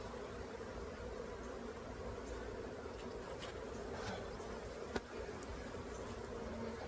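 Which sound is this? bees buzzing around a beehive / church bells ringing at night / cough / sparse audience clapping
bees buzzing around a beehive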